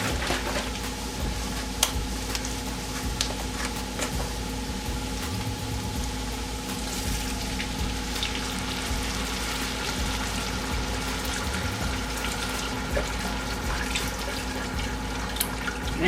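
Bone broth poured into a pot to deglaze it while making keto broccoli and cheddar soup, a steady liquid pour with light sizzle and splashing running continuously for the whole stretch, with no talk.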